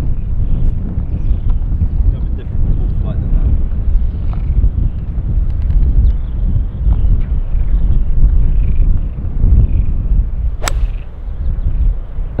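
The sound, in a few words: wind on a golf course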